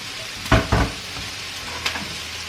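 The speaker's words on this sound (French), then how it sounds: "c'est chiant à cuire parce que t'as peur que ça soit grillé, mais en même temps il faut que ça soit quand même bien cuit les bacons" Bacon frying in a pan on a home stove, a steady sizzle throughout with a few louder bursts of hissing and stirring, no voices.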